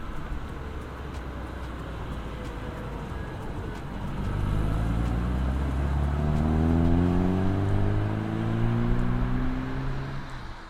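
A 1970s BMW 2002 saloon in original condition drives along, its engine note rising and falling through the gears over steady road rumble, growing louder and busier midway as it accelerates.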